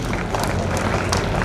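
Applause from an audience at the closing ceremony of an all-India inter-university powerlifting championship in Udaipur, a brief dense burst of clapping with crowd noise.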